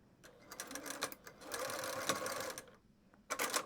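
A sewing machine stitches and back tacks a fabric pouch in several quick bursts of rapid mechanical clatter, separated by short pauses.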